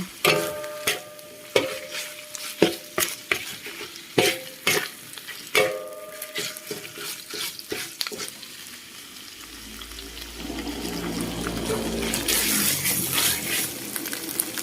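Grilled pork neck tossed with curry paste in a hot pan, with sharp rhythmic scrapes of a utensil over a steady sizzle, followed by a broader, hissing wash of frying as stirring slows.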